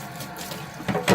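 Water poured through a strainer splashes and trickles briefly, then two louder gushes of pouring liquid close by near the end.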